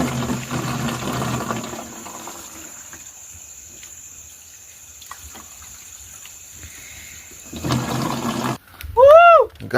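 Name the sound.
water flowing at a campsite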